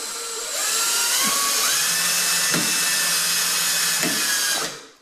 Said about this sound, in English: Not all the way in with the drill driver.